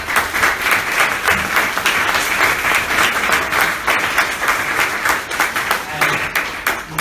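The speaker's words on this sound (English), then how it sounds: "So can we just give our panelists a round of applause?" A conference audience applauds the panelists at the close of a session, dense sustained clapping with sharp individual claps standing out, loud and continuous throughout.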